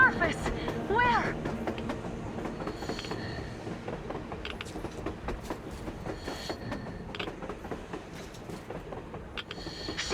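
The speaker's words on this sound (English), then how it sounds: "A damn train on the surface!" A train rumbles past on the surface in the post-apocalyptic shooter Metro Exodus, a steady loud mechanical clatter with rail noise and a music bed running throughout, with people talking over it.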